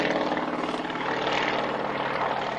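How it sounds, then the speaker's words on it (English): An aerobatic propeller aircraft manoeuvring at the 1996 Yeovil Airshow gives a steady, distant engine drone that holds at an even level throughout, with no voices. "Aircraft going unstable in all axes."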